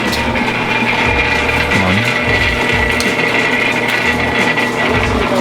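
A drill press bores into a panhead armor rivet, giving a loud, steady mechanical grinding whir with a ratcheting, rasping texture that runs continuously throughout, with no talking.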